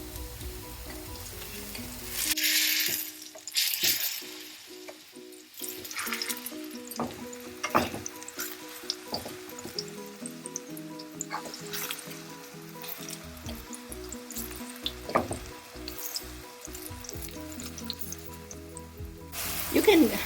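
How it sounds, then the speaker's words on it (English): Plantain slices fry in hot oil with a steady, crackling sizzle that keeps on throughout, broken by scraping and clinks as the pieces are stirred and flipped in the pan. "It's been frying for around 2 minutes."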